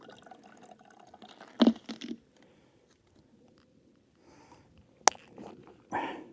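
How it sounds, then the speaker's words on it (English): Clear stream water trickling into a bottle outdoors at a wild camp, quiet gurgles broken by a couple of louder splashing bursts and a sharp knock, close and otherwise calm. "I'm not going to bore you with any more water filling"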